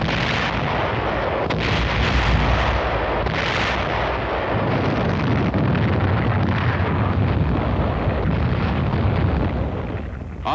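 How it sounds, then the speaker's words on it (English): Artillery fire backed by tanks on Okinawa in a WWII newsreel, a dense continuous rumble of booming shots and blasts with heavy low-end roar, loud and sustained throughout. "Artillery, supported by tanks, went to work on the enemy's defensive line."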